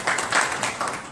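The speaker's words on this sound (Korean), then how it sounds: "박수 부탁드립니다" A seated workshop audience at a Korean internet governance forum breaks into brief, steady applause, a dense wash of many hands clapping at moderate volume from across the room.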